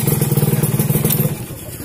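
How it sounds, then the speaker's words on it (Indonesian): A 1997 Yamaha RX King two-stroke motorcycle fired up on its electric starter, running loud and close with a steady, rapid putter that eases slightly toward the end. "Baru kali ini nemu motor King starteran"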